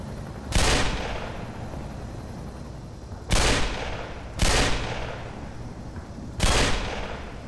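Gunfire in the shooter game Black Mesa: four separate loud, sharp shots ring out at uneven intervals, each with a short decaying tail, heard alone without talk.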